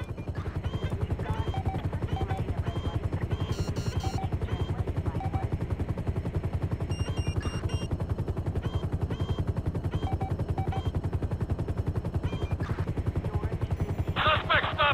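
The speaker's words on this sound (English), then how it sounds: "Okay, I see the chopper." Steady rotor chop of a helicopter in Grand Theft Auto 5, a continuous low pulsing throb through the whole stretch with bits of game noise and gunfire on top.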